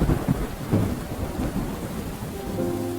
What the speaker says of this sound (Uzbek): Osmonlar tobora qorong'ilanib borardi va yomg'ir tez-tez yog'a boshladi.